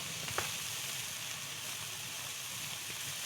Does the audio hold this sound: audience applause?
no